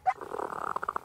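A dog growls and yaps in quick, rough bursts while interacting with a neighbor's dog, a short close exchange of excited canine noises.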